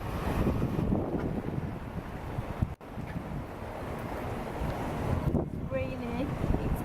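Blustery wind buffets the microphone with a steady roar on a cold, rainy day outdoors in Nara, with a brief drop-out midway and a faint voice near the end.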